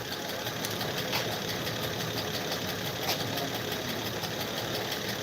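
An engine runs steadily at idle, giving a continuous mechanical hum with a fast, even ticking knock throughout, close by and alone with no talking.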